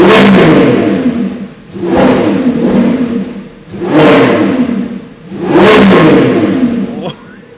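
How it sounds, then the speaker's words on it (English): A 2024 Lamborghini Revuelto's V12 engine in Corsa mode revs hard four times in a row, each loud rising roar dropping back off before the next, heard close up from inside the car. "with Corsa we will be now revving the Revuelto for the first time ever"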